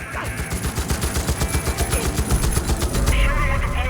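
Rapid automatic gunfire in a Far Cry 5 cutscene, a steady stream of loud, close bursts with a faint voice beneath.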